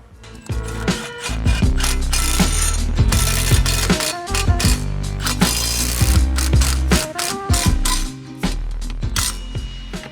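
A hand ratchet tightens lag screws into an overhead beam in a garage wash bay, giving loud, close, rapid clicking runs broken by short pauses, with no talking.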